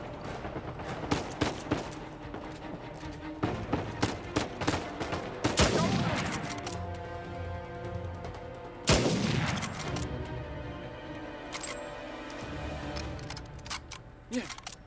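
Gunfire crackles through a firefight in the PS4 game Uncharted 4: A Thief's End, with rapid bursts, single shots and heavier booms at moderate loudness, layered over game ambience.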